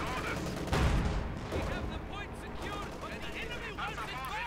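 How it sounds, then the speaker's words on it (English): Light machine gun bursts and other gunfire crackle through a Company of Heroes 2 1v1 match, a commentator talking over the rattling battle noise. "The conscripts with the light machine gun definitely done a bit of damage there."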